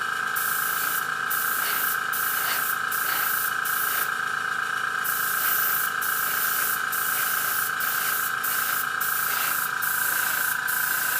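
A dual action airbrush sprays light mist coats in a steady close hiss, broken by short regular pauses as the trigger is released and pressed again.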